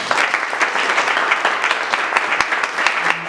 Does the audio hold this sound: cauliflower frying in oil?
no